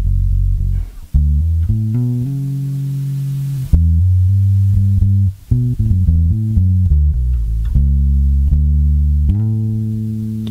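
Bass guitar plays the lick from a gospel song, a run of sustained low notes with a few brief gaps, played alone and fairly loud.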